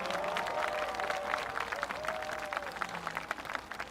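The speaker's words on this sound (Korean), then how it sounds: "여러분 뜨겁고 정말 뜨거운 격려의 박수를 다시 한번 부탁드리겠습니다" A crowd applauds at Lee Jae-myung's 2025 election rally in Seongdong and Dongdaemun, Seoul, with a continuous wash of clapping and crowd noise under faint tonal sounds from a sound system, steady and moderately distant.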